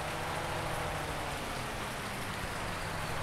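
Rain falls in the farming video game Farming Simulator 19, a soft, even hiss of drops that stays steady and fairly quiet throughout, with no voices.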